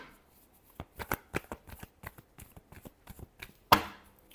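Tarot cards are shuffled in a string of quick, crisp riffles and taps, irregular and close, ending with one sharper snap.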